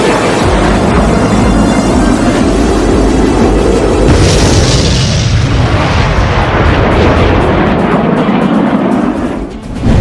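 Large bombs of about 1000 kg from an Indian Air Force Mirage 2000 strike at Balakot explode in a continuous loud, dense rumble with a sharp burst near the middle, heavy and distant-sounding, with no talk.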